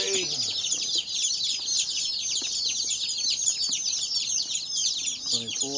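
Baby chicks arriving at a homestead chirp continuously in a dense, bright chorus, close and steady throughout, with a few soft low sounds underneath.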